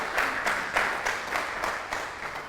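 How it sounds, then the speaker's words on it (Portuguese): A church congregation applauds in rhythmic unison, with steady rounds of clapping roughly every third of a second from a crowded room, and no one speaking. "Você pode dar um aplauso a Jesus aí?"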